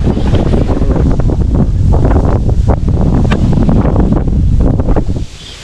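Strong wind buffeting the microphone in a loud, rumbling roar that stays constant before dropping away near the end.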